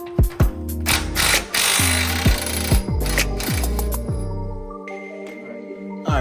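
A wrench works loose 18 mm bolts on a car's tow arm, with a run of sharp metallic ratchet clicks and clanks nearby, then a brief quieter tail.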